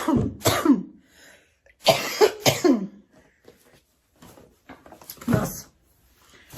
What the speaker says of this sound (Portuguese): O vídeo vai ser a maior parte do vídeo tossindo.